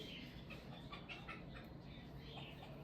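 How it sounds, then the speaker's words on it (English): Faint high chirps and twitters of birds come and go over a steady low background hum, quiet and distant. "Listen to the birds."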